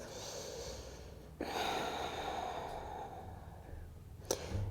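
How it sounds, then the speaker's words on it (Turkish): Deep, slow breathing in and out through the nose during a guided exercise session, with long airy inhales and exhales, close and soft, marked by a couple of sharper nasal sniffs. "Burundan nefes alıp burundan veriyoruz."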